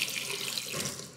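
Water running steadily from a faucet into a sink as hands are washed under it, a continuous close hiss and splash with no voices.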